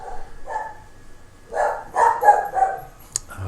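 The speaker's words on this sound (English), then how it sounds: "The unmistakable sound of my dog barking." A dog barking in a short burst of several close, sharp barks, uneven in rhythm, ending with a brief higher yip.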